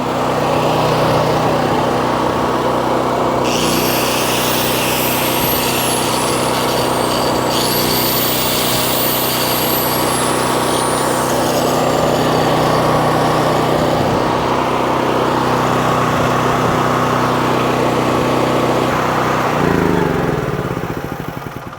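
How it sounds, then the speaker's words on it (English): A Harbor Freight Predator 9000 watt generator running steadily, a loud, constant engine drone with a strong low hum, holding an even pitch for the whole stretch, with brief high whines over it early on. "We've proven we have a generator that runs."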